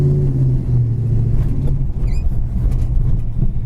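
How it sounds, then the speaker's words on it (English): A 1971 Plymouth Road Runner muscle car engine idles with a deep, steady low rumble, close by and constant, with a brief faint squeak partway through. "Car really has a great sounding muscle car idle."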